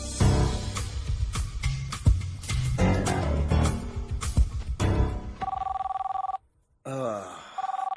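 Telephone ringing in a Telugu movie scene, a repeating electronic bell tone in short bursts that follows music and a few sharp hits, with a brief silent gap between rings.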